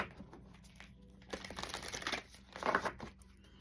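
Tarot cards being shuffled by hand, soft quiet riffling and slapping bursts that come in two short clusters, close and faint with no talking.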